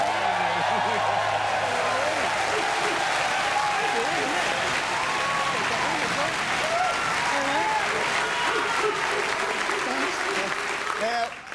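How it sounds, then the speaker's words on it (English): A studio audience applauds loudly and steadily for a television football show's bar host, a dense wash of clapping with cheers and voices mixed in that continues throughout and drops off at the very end. "Now, Trev, enjoy the applause"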